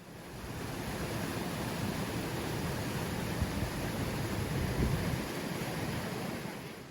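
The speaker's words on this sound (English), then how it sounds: "I just wanted to record to show you how strong the current was with this stream" A strong Hawaiian stream rushes steadily near a beach, a dense continuous roar of flowing water mixed with some wind buffeting on the microphone.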